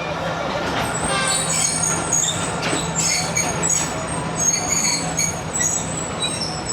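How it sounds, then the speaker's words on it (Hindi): The Karakoram Express rolls slowly through Sahiwal railway station in Pakistan with a loud, steady rumble of wheels on rails and a sustained metallic squeal running through the whole clip. "रुकी नहीं है ट्रेन।"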